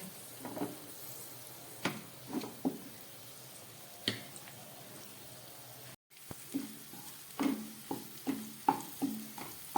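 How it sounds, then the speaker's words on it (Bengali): Capsicum and green chillies fry in oil in a pan for a vegetarian khichuri, with soft stirring scrapes and a low sizzle, close but quiet, in a few spaced bursts. "ক্যাপসিকামটাও হালকা ভাজা হয়ে গেল"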